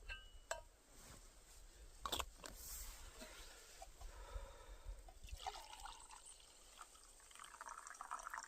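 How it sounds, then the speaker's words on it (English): Hot coffee poured into a cup outdoors in the snowy Norwegian winter cold, a soft trickling, filling stream of liquid with a few light clinks, fairly faint and close with no talking. "let's pour some coffee in."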